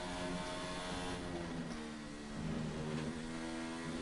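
Steady engine drone of a Formula 1 car in a racing video game, held at a constant roar with smooth shifts in pitch as the car laps, continuous and fairly loud with no talk over it.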